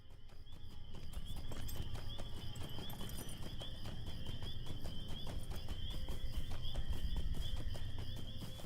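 A riding goat mount in an online fantasy game trots along toward Moria, its hooves clip-clopping in a quick, steady rhythm under a faint sustained tone and low background rumble.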